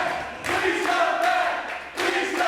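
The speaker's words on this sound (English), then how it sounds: "Listen to the crowd." A fight-event crowd roars after a hard-fought contest, a broad swelling wash of cheering and yelling that rises and falls in waves, fairly close and loud, with no distinct speech.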